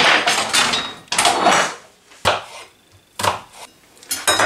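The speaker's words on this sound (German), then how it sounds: "Ich schneide mal die Zwiebeln einfach klein" A knife chops onions on a board in a home kitchen, with loud, sharp strokes coming in bursts and short pauses between them.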